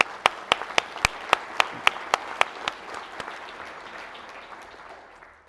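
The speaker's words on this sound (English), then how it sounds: "So I want to have a round of applause for all of you." An audience at an opening-remarks event applauds, beginning with a few sharp, evenly spaced claps that swell into a broad wash of clapping and then gradually fade.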